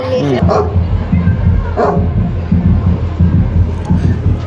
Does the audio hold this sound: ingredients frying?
no